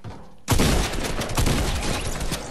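Rapid assault rifle fire in the video game Fortnite, a sudden loud burst of closely spaced shots that bursts in after a brief quiet moment and continues as dense, rattling gunfire.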